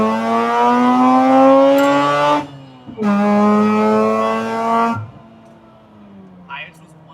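Straight-piped Mazda RX8 pulling hard in second gear: a loud, buzzy rotary wail climbs steadily in pitch, breaks off briefly at a shift, climbs again, then drops to a quieter idle-like drone.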